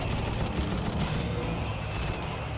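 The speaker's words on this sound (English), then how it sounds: "Oh, there was a big explosion there." Dense, continuous battlefield din from a video game combat scene, with gunfire and a loud explosion blending into a heavy, steady roar that stays loud throughout.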